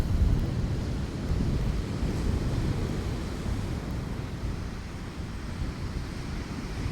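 Rough sea waves crash on a UK shore during a storm, with gusting wind buffeting the microphone in a continuous, heavy low roar that rises and falls.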